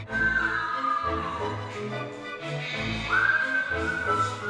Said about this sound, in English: Do you always whistle while you work?